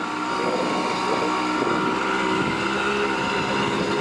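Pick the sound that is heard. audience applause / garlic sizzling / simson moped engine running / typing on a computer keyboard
simson moped engine running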